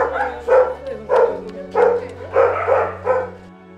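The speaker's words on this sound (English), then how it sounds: "This is a little puppy." A little puppy barks close by, six high, yappy barks in a fairly even rhythm, with a low steady hum underneath.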